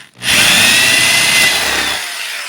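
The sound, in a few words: power drill drilling plywood drum shell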